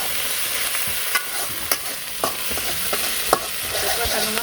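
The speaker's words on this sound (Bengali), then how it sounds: "মশলাটা ভালো করে মশলাগুলো ভালো করে কষিয়ে নিই।" Ground paste of onion, garlic, ginger and green chili frying in a pan for a prawn malai curry, a steady close sizzle with scattered sharp scrapes of a spoon stirring through it.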